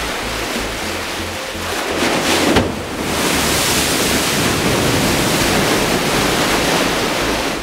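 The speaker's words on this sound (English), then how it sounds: "the waves are running through the flume and give also a water motion at the bottom of the flume" Large waves run through the Delta Flume, a big wave test channel, as a loud, steady rushing wash of water with a brief surge partway through and a low rumble underneath.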